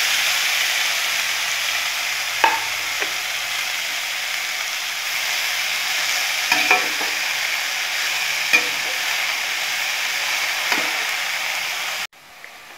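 Pumpkin leaves fry with garlic in a pan, giving a steady sizzle broken by occasional clinks and scrapes of stirring, and the sound cuts off abruptly at the end.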